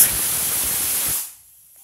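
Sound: pressure cooker whistling and releasing steam while boiling suran

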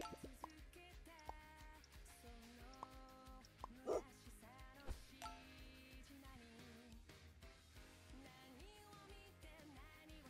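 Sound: dog barking in Super Auto Pets video game

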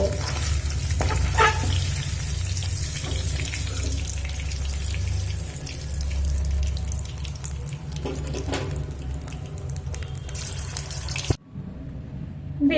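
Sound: frying paneer pieces in oil

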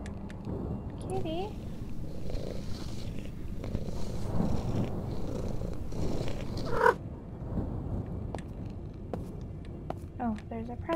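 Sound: cat purring in a video game

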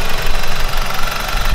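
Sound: BMW N42/N46 engine running at idle

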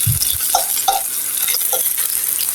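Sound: yardlong bean pakoras frying in oil

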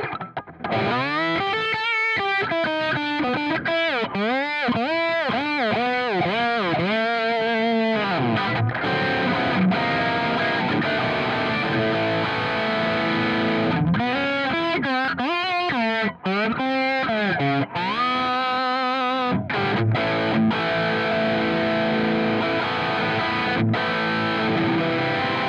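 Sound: guitar through whammy pedal on pedalboard

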